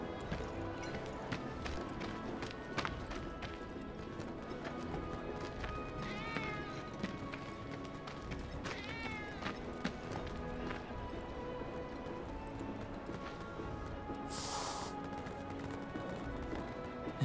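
In Final Fantasy 7 Remake, game cats meow in short bursts over a constant bed of scurrying footsteps and clattering, with a couple of distinct mews standing out amid busy background game sound.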